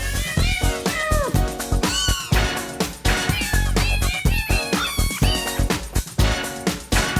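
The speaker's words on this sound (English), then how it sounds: "there is a nice game about cats that sing covers of pop songs" Cats sing a cover of a pop song in a PS1 video game, meow-like voices carrying a melody over dense, loud, continuous backing music with no talking.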